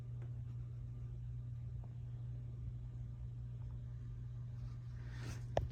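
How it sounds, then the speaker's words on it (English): A Harbor Breeze Contempo ceiling fan running with a steady low electrical buzz and hum, continuous and fairly quiet, with a brief faint click near the end. "Fan's pretty buzzy"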